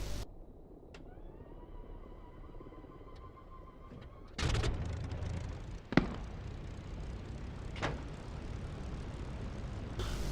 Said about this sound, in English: I do like the sound of this engine when it's running